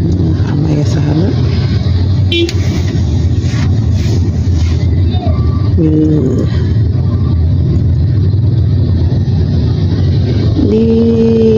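Steady road traffic rumble at a busy intersection on Jalan Raya Pekanbaru–Bangkinang, km 10, Pekanbaru, continuous and fairly loud, with engines idling and pulling away and a few short horn toots.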